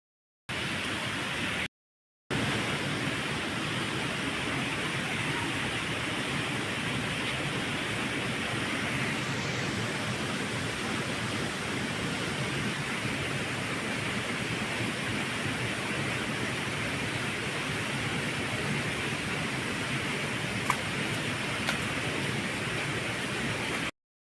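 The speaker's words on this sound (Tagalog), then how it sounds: "Bangon Falls." Waterfall at Bangon Falls near Central Cave in Catbalogan, Samar, after rain the day before: a steady, dense roar of rushing water that holds evenly throughout, with no voices.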